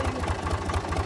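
A farm tractor engine idles nearby with a loud, rhythmic low chugging and a clattery mechanical pulse.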